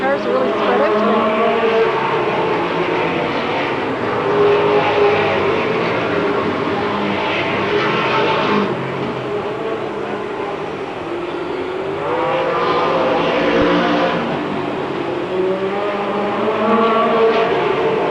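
Stock cars in a 1993 MASCAR feature race roar around the track in a continuous loud engine drone, swelling and fading as cars pass, with an announcer talking over it.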